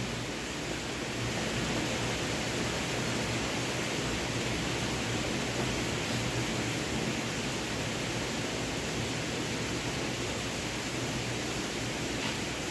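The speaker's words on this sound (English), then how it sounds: "you are hearing the noise. This is the noise of torrential rain." Torrential rain in May, a loud, dense, unbroken hiss that stays steady for several seconds, heard alone without talk.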